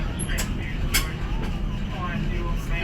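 A Christchurch electric tram runs with a steady low rumble and rolling mechanical noise, broken by a few sharp clicks and knocks, and nobody speaks.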